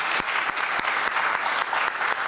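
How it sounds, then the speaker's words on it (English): An audience at an HHS School System 76th anniversary alumni reunion of the Canadian chapter gives a hearty round of applause, many hands clapping in a dense, lively patter with a few sharper individual claps standing out. "please give her a huge round of applause."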